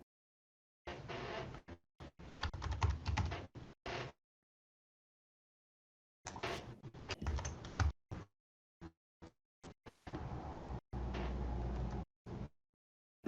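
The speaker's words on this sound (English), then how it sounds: "I can hear you typing" Typing on a computer keyboard, bursts of rapid clicking keystrokes separated by silent pauses, close and fairly faint, with a few isolated key taps late on.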